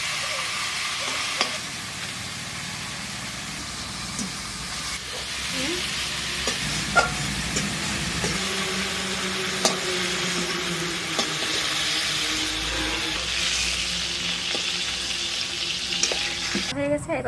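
Lobster, rubbed with salt and turmeric, fries lightly in a pan in a village kitchen, giving a continuous close sizzle over about seventeen seconds with repeated stirring scrapes and clinks of a utensil against the pan.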